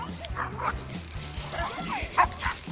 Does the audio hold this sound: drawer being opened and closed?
no